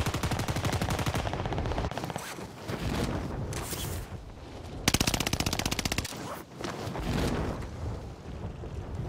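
Rapid machine gun fire in the video game Warzone Pacific, long loud sustained bursts with brief pauses between them over a windy background.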